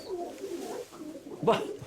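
Pigeons in a loft give soft, low cooing calls close by, with a slightly louder burst near the end over a quiet background.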